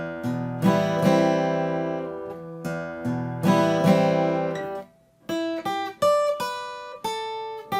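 Acoustic guitar plays a song's intro, strummed chords alternating with picked lead lines in a steady rhythm, close and clear with no talking.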